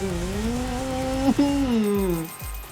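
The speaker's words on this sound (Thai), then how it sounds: "นี่มีเทอร์โบด้วยนะ ใช้เทอร์โบไปเลย" An arcade racing car in Horizon Chase Turbo revs with a rising, gliding engine whine that briefly dips as if shifting, then winds down with a falling tone, a loud close synthetic motor alone without talk.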